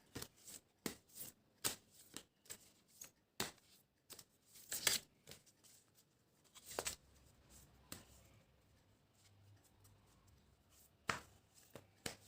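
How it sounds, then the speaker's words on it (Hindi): Oracle cards being shuffled and drawn by hand, a series of crisp close flicks and slaps in a steady rhythm, with a busier riffle midway and scattered taps later, no talking. "आज मैं पहले कार्ड्स निकाल लेती हूँ, फिर एक्सप्लेन करती हूँ।"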